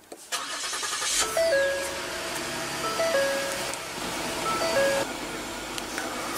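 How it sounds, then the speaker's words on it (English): A 2015 Ford Explorer starts with a push-button ignition: several short electronic chimes, then the engine catches and settles into a steady, moderately loud idle close by. "Just put your foot on the brake, hit the button to start."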